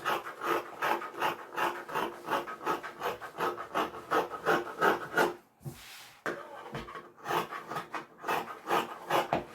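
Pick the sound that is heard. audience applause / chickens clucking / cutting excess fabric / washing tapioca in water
cutting excess fabric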